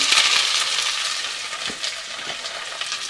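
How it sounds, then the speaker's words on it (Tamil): Small shallots sautéing in hot oil for a crab curry, a steady bright sizzle with faint stirring scrapes, close and continuous with no talk. "நல்லா இந்த சின்ன வெங்காயத்தை போட்டு நாங்கள் வதக்கி எடுப்போமா"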